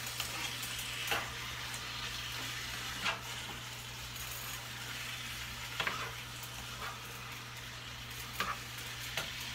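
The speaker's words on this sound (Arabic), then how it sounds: "هقلب الفراخ مع البصل والبهارات دي كويس" Chicken is stirred with onions, salt, pepper, paprika and cumin in a pan, a quiet continuous frying hiss under a steady low hum, broken by a few sharp spoon knocks against the pan.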